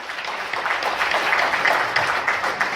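An audience at a motivational talk applauds itself, a continuous roomful of hands clapping and a few faint whoops, steady and fairly loud throughout.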